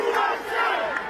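A large crowd at an outdoor political rally chanting together after former president Trump was shot, a loud, dense roar of many voices sustained through a brief burst.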